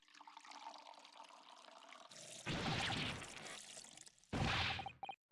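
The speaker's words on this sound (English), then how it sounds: "You're pouring scalding tea hot all over me." Hot tea being poured in the game The Great Ace Attorney, a quiet game tone followed by two bursts of splashing liquid, the first about a second and a half long and the second shorter and sharper.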